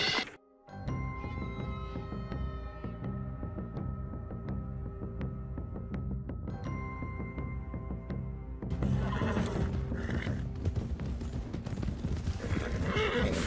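A horse whinnies over steady game music with hoofbeats clip-clopping, then the mix grows busier and louder with overlapping noise.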